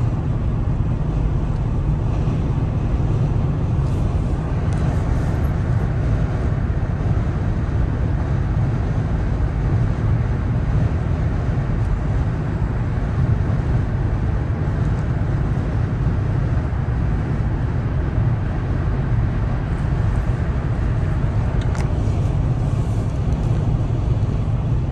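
A car travels at highway speed on a freeway near a construction zone, giving a steady, loud low road and engine rumble that holds evenly throughout with no talking.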